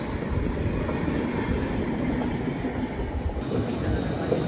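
Venad Express passenger train from Thiruvananthapuram Central to Shoranur, heard from on board as a steady, loud rumble of rolling wheels and carriage noise with faint clickety-clack, continuous throughout without talk.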